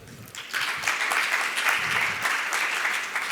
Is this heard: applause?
yes